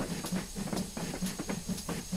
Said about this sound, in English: We're in a steam train, guys.